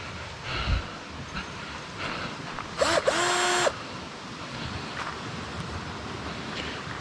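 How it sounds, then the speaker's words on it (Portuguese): A power drill whirs for about a second, driving a screw into thick plastic from a drum being built into a raft beside a pond, heard over steady outdoor wind noise with no talking. "Vou botar os primeiros parafusos."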